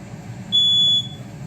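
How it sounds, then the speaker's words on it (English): A kitchen smoke alarm, set off while bread is frying after eggs, sounds a loud, piercing, steady electronic beep. A short, sustained tone is followed by another starting, over a low background hum. "And there goes the stupid fire alarm."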